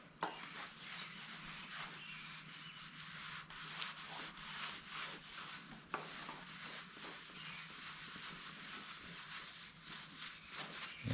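A flat-top griddle gets a thin coat of oil to keep rust off, heard as a quiet, continuous scrubbing rub over the metal in repeated strokes for about eleven seconds with no talking.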